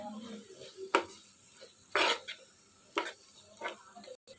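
Chili powder being stirred into a curry in a pan, with several distinct scraping strokes of a spoon at roughly one-second intervals over a faint background sizzle, close and fairly quiet.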